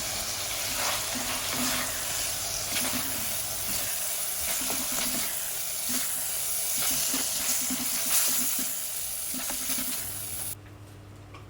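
Steady loud sizzling of long beans and potato frying in a pan, with scraping and tapping of a utensil stirring throughout, then the sizzle drops off near the end.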